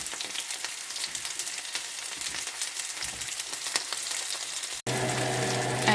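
Vegetables sizzling lightly in a frying pan for a gluten-free vegetable lasagna: a steady, close crackling fry that turns suddenly louder and fuller near the end, with no talking.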